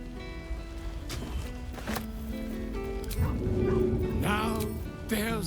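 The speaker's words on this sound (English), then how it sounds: "Scratch barks merrily in something like agreement." A dog named Scratch in Baldur's Gate 3 gives a few short, cheerful barks and yips over background game music, fairly close.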